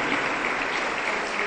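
A church congregation applauds during a Spanish-language service, a dense continuous burst of many hands clapping together, loud and close for its whole length.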